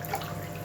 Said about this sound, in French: Et là, on va mettre un peu d'eau pour la cuisson